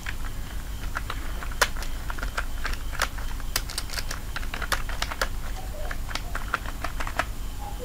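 Text is typed on a computer keyboard in rapid irregular bursts of close, crisp key clicks over a low steady hum, with no talking.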